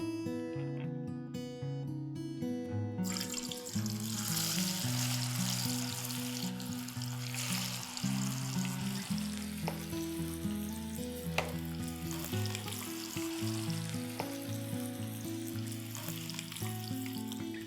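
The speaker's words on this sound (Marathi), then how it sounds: "तर हे मी तेल गरम करायला ठेवलंय, तर आपण डाळ तळून घेऊया." Chana dal frying in hot oil, a dense steady bubbling sizzle underneath a loud tonal background music bed, fairly even throughout.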